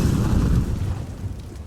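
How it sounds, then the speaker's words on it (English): A grenade detonates in a Counter-Strike: Global Offensive match, a deep rumbling boom that fills the brief moment and slowly rolls off without any voices over it. "That nade doing a lot of damage, and that molly getting thrown as well"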